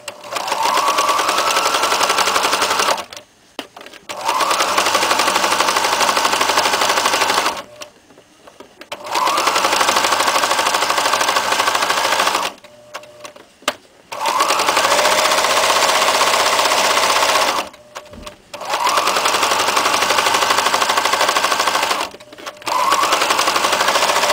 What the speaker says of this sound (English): now we're going to do the zigzag around to make this a nice even stitch